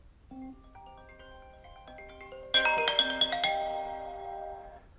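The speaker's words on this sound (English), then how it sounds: "you'll get a sample of the volume of your ringtone" A bright, chiming iPhone ringtone melody plays alone, starting softly and then swelling into a louder burst of layered bell-like tones that ring out and fade.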